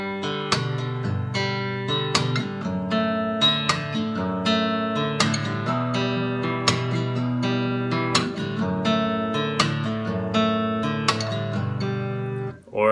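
Fingerstyle slap guitar in triple meter, alternating the third and fourth strings, giving sharp percussive slaps over ringing bass notes in a steady repeating rhythm, close and clear with no talking.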